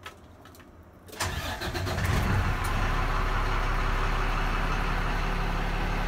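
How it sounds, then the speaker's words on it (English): A 2017 Mack truck with a Cummins diesel engine cranks briefly and fires up, then settles into a loud, steady rumbling idle close by, with no talking over it. "let me uh, start the engine"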